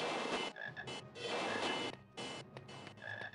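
Frogs croak in the Harry Potter and the Sorcerer's Stone video game, loud rasping bursts that repeat in quick succession with short gaps between them and no voices over them.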